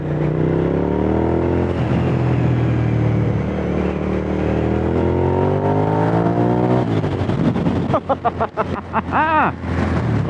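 A 2004 Suzuki SV1000 1000cc motorcycle engine pulls hard while riding, its steady rising drone and wind rush giving way to sharp revving gear changes near the end, with no talk.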